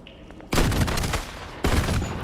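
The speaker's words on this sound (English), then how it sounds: "okay, so if I hold it, it'll shoot the smaller ammo" A combo gun in a Fortnite-style video game fires in two rapid bursts of crackling shots, loud and close, separated by a brief pause.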